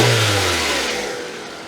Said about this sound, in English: let me go out and give the accelerator a quick throttle wrap so we can get that waveform on the screen.